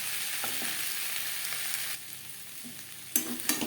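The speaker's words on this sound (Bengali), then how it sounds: "3-4 মিনিট নাড়াচাড়া করে নেব।" Papaya curry with spices sizzles and crackles in a pan on medium flame, a dense frying hiss with brief stirring scrapes and a couple of sharper clinks near the end.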